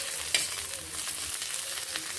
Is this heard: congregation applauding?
no